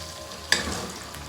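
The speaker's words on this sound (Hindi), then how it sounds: "पनीर फ्राई हो रहा है" Paneer frying in a pan for matar paneer gives a faint steady sizzle, with one sharp clatter partway through and no talking.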